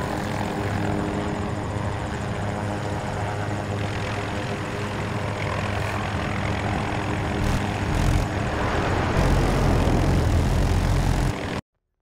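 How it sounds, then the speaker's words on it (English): An MD-540 Nightbird four-seat scout helicopter in Battlefield 2042 gives a loud, steady rotor and turbine drone that swells slightly near the end before cutting off abruptly, with no talk. "MD-540 Nightbird is a scout helicopter with four seats."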